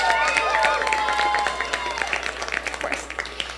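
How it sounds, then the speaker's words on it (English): A crowd at a university homecoming bonfire breaks into loud, sustained applause, the dense clapping starting strong and then thinning into scattered claps as it dies down, with a few voices mixed in. "So big round of applause for Maddie one more time"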